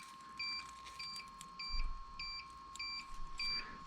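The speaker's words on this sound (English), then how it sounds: "Oh, it's beeping at me." An FPV remote controller emits a series of short, evenly spaced electronic beeps while binding to a DJI digital cinewhoop drone, repeating in regular pairs at close range with no speech.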